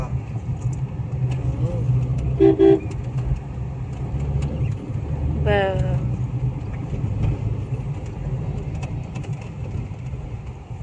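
Traffic jammed on a highway service road, a steady low rumble of idling engines with a couple of short tonal horn-like blasts rising above it.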